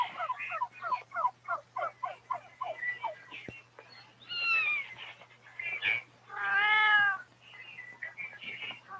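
Turkeys in a turkey yard on a farm, a fast rhythmic gobbling burst followed by several louder drawn-out warbling calls, fairly close and alone with no talk.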